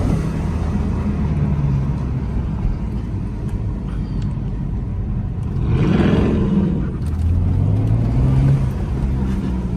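A BMW M3 F80 sport sedan drives with a steady, loud engine drone, then swells as it accelerates and slides, engine pitch sweeping up and down, with faint voices in the cabin.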